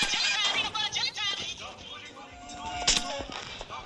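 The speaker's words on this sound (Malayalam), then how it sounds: "അവർ രണ്ടുപേരെ വെടിവെച്ചിട്ടിട്ടുണ്ട്." Video game gunfire, with sharp shots cracking across a busy mix of game sounds and voices talking, moderately loud throughout.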